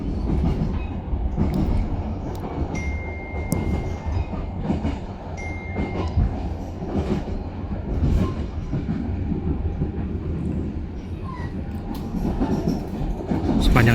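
An Indonesian business-class passenger train on Java rolls along the rails with a steady loud rumble and rhythmic clacking of wheels, heard from on board for the whole stretch.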